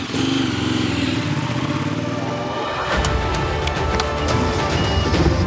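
A motorcycle engine drones steadily on the ice of Lake Baikal during a Baikal Mile speed-record attempt, with a loud, continuous buzzing tone that shifts abruptly midway into a rougher, higher-pitched roar.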